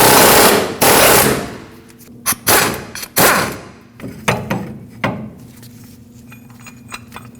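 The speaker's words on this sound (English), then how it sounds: "I have the ball joint press pressing directly on the top of the ball joint" A ball joint press works out the lower ball joint on a Nissan Frontier, giving harsh metallic bursts and sharp clanks that come in loud, uneven spurts, then fade into quieter scattered knocks and creaks.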